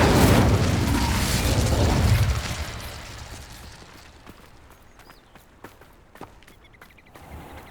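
A fire spell cast in the Hogwarts Legacy video game erupts in a loud, roaring burst that lasts about two seconds, then fades into quieter ambience broken by scattered soft clicks and taps.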